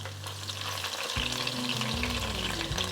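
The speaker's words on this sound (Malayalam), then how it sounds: "എണ്ണ നല്ല ചൂടാണ്. അതിലേക്ക് മുളക് ഇട്ട് കൊടുക്കാം." Chilies dropped into very hot oil with garlic that has just been sautéed, a steady close sizzle with stirring as the ingredients hit the pan.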